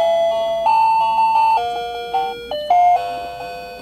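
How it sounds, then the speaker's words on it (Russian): A VST 770T electronic clock plays an alarm melody, a simple chiming electronic tune stepping between tones, close and steady, with no voices. "То есть с различными мелодиями здесь."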